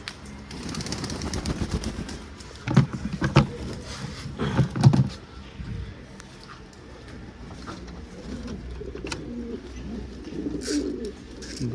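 Pigeons coo repeatedly in low, throaty bursts, with wing flutters and shuffling nearby as they peck at spilled feed, then softer cooing continues in the background.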